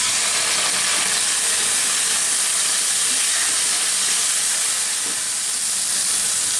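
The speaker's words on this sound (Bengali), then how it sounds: "এখন আমি চুলায় কড়াইয়ে আধা টেবিল চামচ তেল গরম দিয়ে এই মুরগির মাংসটুকু যে মাখা রাখছিলাম ওইটুকু একটু ভেজে নিব।" Marinated chicken pieces fry in half a tablespoon of hot oil in a wok for Chinese street-style chicken fried rice, a loud, dense, continuous sizzle close up with no talking.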